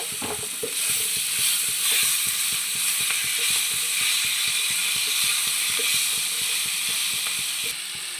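Chopped tomatoes with salt cook in a pan for prawn biryani, giving a steady, close sizzle with rapid rhythmic scraping or stirring ticks throughout, no voices.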